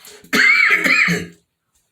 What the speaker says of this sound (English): I'm doing this reading and I'm coughing.